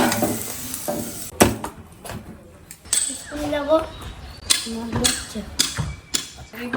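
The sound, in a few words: aloo paratha frying in oil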